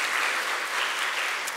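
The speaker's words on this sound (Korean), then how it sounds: "이들을 위해서 격려의 박수 한번 주시기를 바랍니다." A church congregation applauds during a Sunday worship service: a brief, steady wash of dense clapping from many hands.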